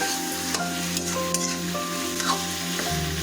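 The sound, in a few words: sautéing snake gourd curry in a wok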